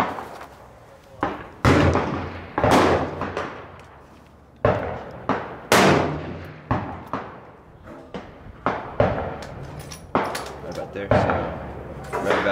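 Rifle firing 55 grain .223 ammunition, a rapid string of about a dozen loud, sharp cracks with ringing decay, close to the listener, with speech among the shots.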